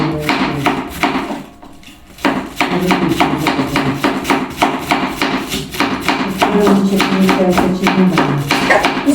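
Rapid, steady knife chops shredding cabbage on a board, loud and close, with a brief pause near the start before the rhythmic cutting resumes.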